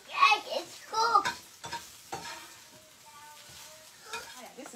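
An egg frying in a pan during a family breakfast, with soft sizzling and a few clattering stir or utensil sounds in the first seconds, then a quieter hiss.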